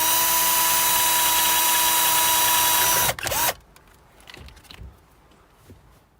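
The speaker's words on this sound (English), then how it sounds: "now we're going to use a bigger bit and make the hole the size of our screw" A power drill with a larger bit whines loudly and steadily while boring a screw hole in plastic, then spins down and stops after about three seconds. A few soft handling knocks and clicks follow in near quiet.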